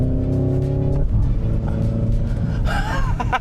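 A Hyundai Ioniq 5 N electric car rumbles through a corner after braking, a low steady drone inside the cabin with a brief tonal whine toward the end.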